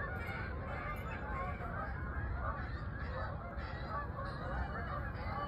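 Geese honk steadily on a beach at sunset, a dense continuous chorus of calls over broadband surf-like noise, with no talking.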